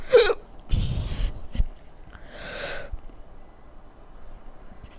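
Several hiccups from a person pausing during a Madden 17 football video game session, sharp isolated bursts with gaps between, fairly close and loud with no talking.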